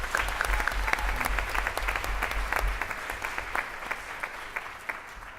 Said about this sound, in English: We can applaud that too.